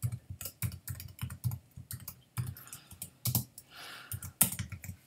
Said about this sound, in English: I'm just going to type it in here